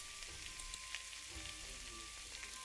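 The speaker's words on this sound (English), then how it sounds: "Heat the sesame oil in a pan. Add the pork, season with salt and pepper." Pork sizzles in hot sesame oil in a pan for a Japanese bean sprout stir-fry, a faint but steady crackling hiss with scattered small pops throughout.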